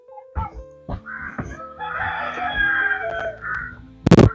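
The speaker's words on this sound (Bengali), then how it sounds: "গ্রামের মোরগ ডাকতেছে কুক কুক কুক কুক।" A village rooster crows nearby in a mountain lake village, a long rising call, preceded by a few short clucks and followed by a sharp thump.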